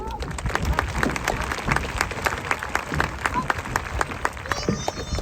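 Loud crowd applause at an outdoor high school graduation, many hands clapping together with sharp individual claps and some cheering mixed in, sustained throughout.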